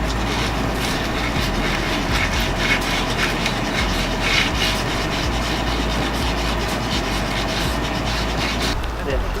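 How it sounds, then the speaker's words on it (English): Continuous abrasive rubbing and grinding while sanding Mini wheel rims, loud and steady throughout, with faint talk in the background. "So now that you're sanding them all down"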